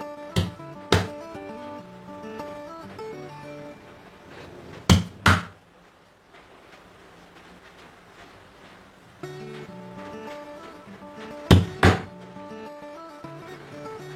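A sharp-edged tin presses through rolled puri dough on a board in sharp paired thuds, three separate pairs spread out, with faint background music between them.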